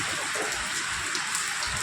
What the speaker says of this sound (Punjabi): ਇਹ ਇੱਥੇ ਇੱਕ ਪਾਣੀ ਆ ਪੈਂਦਾ ਭੱਜ ਕੇ ਲੰਘਣਾ ਪੈਂਦਾ